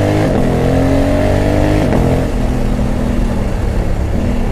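A loud 2020 Honda Africa Twin 1100 engine revs hard, rising in pitch with quick-shifter gear changes marked by brief dips, then keeps pulling steadily; no talking.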